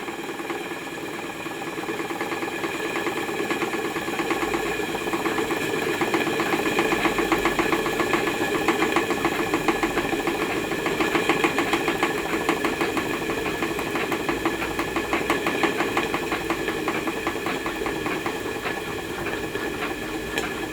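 A Stuart Turner 10H model steam engine running on about 15 psi steam pressure, with a small exhaust leak, gives a steady, fast, even chuffing and hiss that holds at a constant level for about twenty seconds with no talk.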